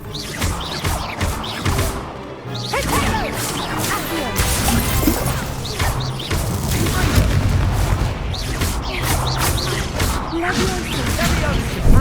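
Blasting Confringo spell explosions in the video game Hogwarts Legacy, a continuous barrage of booms and crashes, loud and dense, with shouting voices over them.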